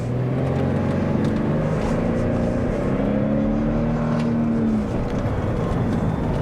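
2023 Toyota Sequoia Limited 4WD, a roughly 5,800-pound SUV, accelerating hard from a parking lot, engine note rising steadily through climbing revs before easing off, heard from the cabin.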